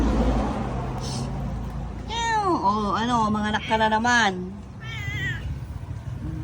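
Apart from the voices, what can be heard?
cats meowing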